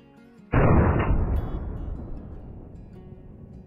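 A single loud hunting rifle shot rings out in the game Way of the Hunter, breaking sharply from quiet and trailing into a long, rolling echo that slowly fades across open terrain.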